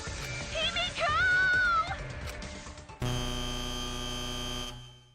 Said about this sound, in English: Right when the timer hit 0, the buzzer went off.